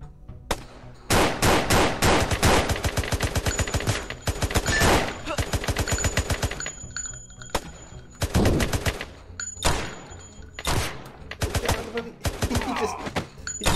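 AK rifle gunfire in the VR shooter Crime Cracker, rapid automatic bursts and clusters of shots with thumps between them, loud and punchy, with a little talk mixed in.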